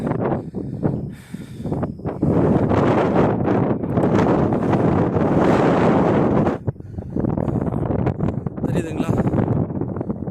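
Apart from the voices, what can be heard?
strong wind blowing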